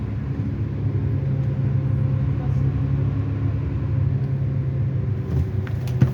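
Steady low engine rumble and road noise from the top deck of London Routemaster bus RML 887 on a late-evening ride, constant and close, with a voice faintly present.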